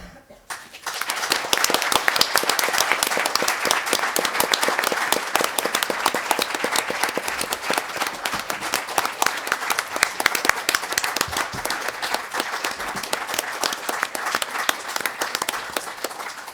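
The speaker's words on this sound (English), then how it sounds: "really thank you as we hear the applause for your powerful speech" Sustained audience applause after a speech at an Arctic Indigenous languages event, loud dense clapping that starts abruptly and holds steady throughout.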